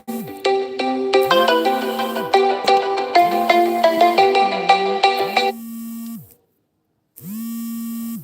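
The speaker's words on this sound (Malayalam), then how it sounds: "ഒരു ഫോൺ വന്നു അതിപ്പോൾ ഒന്ന് ഡിസ്റ്റർബായി കേട്ടോ" A melodic phone ringtone plays a quick run of bright electronic notes, loud and close, then stops and a tone briefly resumes.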